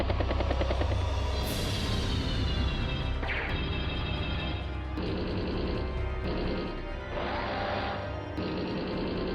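Battlecopter being struck in Advance Wars: Days of Ruin, a game combat sequence with rotor-like whirring, sharp impact hits and crashing bursts layered over continuous game music, loud and busy throughout.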